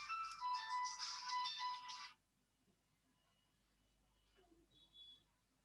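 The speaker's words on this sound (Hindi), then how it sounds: "किसका फोन है?" A mobile phone ringtone plays loudly for about two seconds as a bright, repeating melodic tone in a lecture room, then stops, leaving near silence with a faint short beep later.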